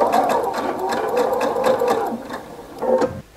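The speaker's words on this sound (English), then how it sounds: "you're just going to stitch, do a straight stitch along this top edge up here" A sewing machine runs a straight stitch along a sweatshirt sleeve, a steady close rhythmic whirring with a quick needle pulse, slowing briefly before stopping.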